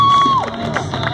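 A street crowd at a Fremont Street freak show cheers and whoops after a blockhead stunt, a brief loud burst opened by a high whistle.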